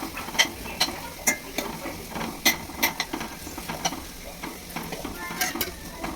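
Vegetables fry in a hot kadhai with steady sizzling, punctuated by sharp, irregular scraping and clinking of a spatula stirring against the metal pan, close and fairly loud.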